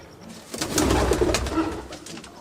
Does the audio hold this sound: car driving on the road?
no